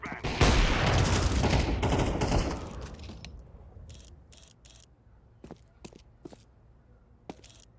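Counter-Strike gunfire bursts in a loud, dense volley for the first few seconds, then fading to sparse sharp clicks and distant shots, with a player's voice briefly underneath.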